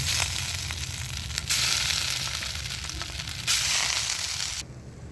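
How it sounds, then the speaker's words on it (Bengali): Hilsa fish roe frying in mustard oil, a steady close sizzle and crackle that swells in two louder bursts and cuts off near the end. "এবার মাছের ডিমগুলো ভাজবো"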